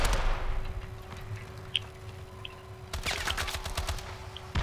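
Automatic gunfire from Call of Duty Advanced Warfare, a whole clip emptied in a burst that swells near the end, preceded by scattered shots and game noise.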